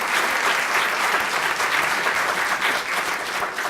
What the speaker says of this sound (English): I just want to give a round of applause to all of the simulation experts.